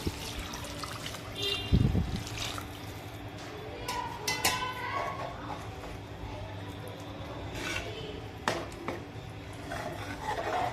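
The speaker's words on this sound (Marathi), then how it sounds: "आता त्यामध्ये मी गरजेनुसार पाणी ऍड करते" Water is poured into a pan of Bombay duck curry, trickling and splashing, with a few metallic clinks of utensils against the pan.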